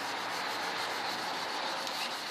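400 grit sandpaper rubbed steadily over a car headlight lens, a close, continuous gritty scratching with even back-and-forth strokes and no talk.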